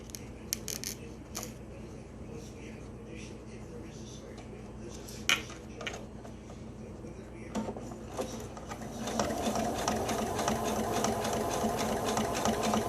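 Sewing machine stitching a fabric face mask, starting with scattered clicks and handling noises, then a steady loud motor whir from the halfway point to the end.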